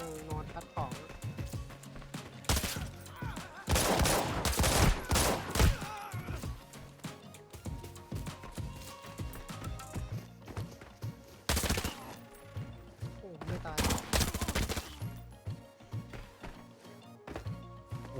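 Rapid bursts of automatic gunfire crack and rattle through a tactical shooter game, loud and close in clustered volleys separated by quieter gaps, with someone talking over parts of it.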